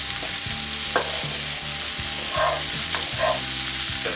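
Chorizo, ham and mushrooms fry in a pan with a loud, dense, unbroken sizzle. A few soft scrapes and knocks from stirring sound up close under the hiss.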